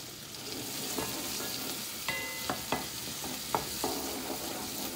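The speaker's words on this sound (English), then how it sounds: "I like to stir in my tomato paste first." Peppers and tomato paste sauté in a pan for a Haitian-style salt fish sauce, with a steady close sizzle and several sharp scrapes and clinks of a utensil stirring, no voices.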